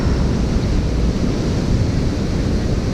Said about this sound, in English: enjoy the sound of the waves and the feel of the breeze